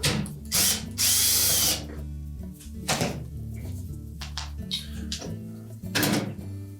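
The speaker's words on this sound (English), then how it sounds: "Then we'll remove the retaining screw for that thermostat." Power drill backing out the retaining screw on the internal bias thermostat of a Whirlpool dryer: several short whirring bursts of varying length, with clicks, clunks and rattles of the screw and panel between them, close and fairly loud.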